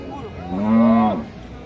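A single loud, close cow moo at a cattle market in Cumilla, a deep drawn-out bellow lasting about a second over faint background noise.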